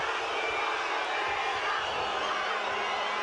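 Boxing arena crowd at the Marco Antonio Barrera vs Paulie Ayala fight: a steady, dense murmur of many spectators, broad and continuous without distinct cheers, filling the whole moment.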